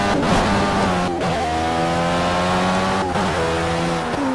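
Indy race car in a racing video game braking hard, a loud continuous engine whine with shifting harmonic tones and brief downshift breaks, steady and close throughout with no talking.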